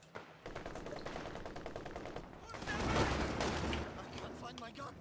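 Machine gun fire in Company of Heroes 2, rapid rattling bursts of an MG that swell into a denser, louder volley midway, mixed with other battlefield shots.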